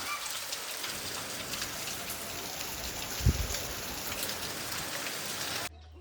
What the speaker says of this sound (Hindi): पर अभी भी बूंदें पड़ रही है हल्की हल्की